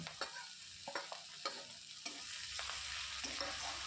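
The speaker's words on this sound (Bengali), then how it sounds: "এবার টমেটো দিয়ে এটাকে নাড়াচাড়া করে আবারও আমি ভেজে নেব" Onion and chopped tomato frying in a pan, a quiet steady sizzle broken by several distinct scraping stir strokes, close and fairly faint, with no voices.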